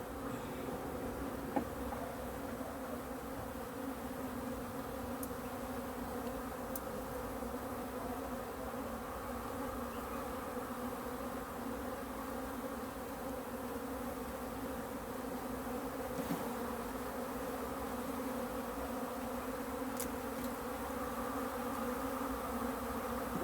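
Honeybees buzz thickly around a beehive frame, making a close, constant droning hum that stays even throughout, with a few faint clicks and no talking.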